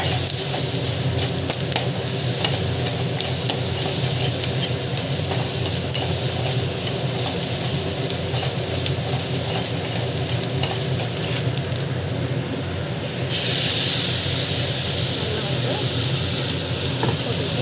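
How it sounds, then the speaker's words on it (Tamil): Gongura (pulicha keerai) chutney ingredients sauté in a pan, giving a dense, continuous sizzle and hiss with stirring scrapes, close and loud throughout, swelling briefly near the end. "நல்லா வந்து இது வதக்கிக்கணும்"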